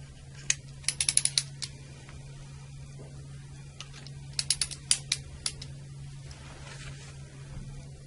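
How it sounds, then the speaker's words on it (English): The arrowhead on an NRX breaker motor operator is turned clockwise to its detent, giving two quick clusters of sharp ratcheting clicks over a low steady hum. "rotate the arrowhead clockwise to the detent just past the hole"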